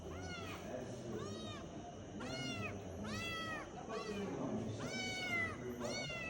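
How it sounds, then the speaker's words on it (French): A small cat meows repeatedly, roughly seven rising-and-falling calls spread over several seconds, close and clear above a murmuring room background. "Petit chat."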